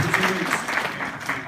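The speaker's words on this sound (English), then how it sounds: "Give them one last huge round of applause." An audience applauding at a home-building company event, a brief burst of steady clapping under a speaking voice.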